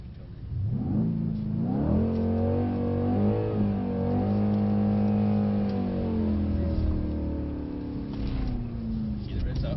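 A Mercedes C63 S engine revs up while drifting and holds a high, straining drone, rising and falling slightly, loud and close throughout.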